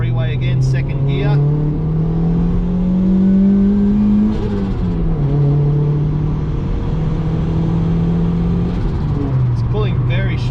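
A turbocharged Honda car accelerates in second gear onto a freeway, its engine a steady, loud drone that climbs in pitch, dips briefly at a shift and keeps pulling, with someone talking over it.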